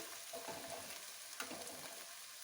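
Chopped onions fry for chole in a pan, a steady close hiss and crackle with soft stirring scrapes, continuous and fairly quiet with no talking.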